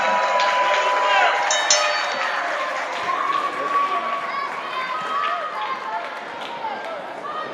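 A wrestling crowd at a two-out-of-three-falls match reacts unhappily to the match ending, a loud, sustained wash of mixed shouting and murmuring voices that fills the whole stretch.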